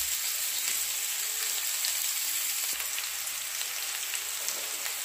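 Potatoes frying in hot oil in a pan for alur dom, a continuous bright hiss and crackle of sizzling, steady and close, with no talk.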